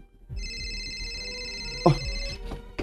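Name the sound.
cellphone ringing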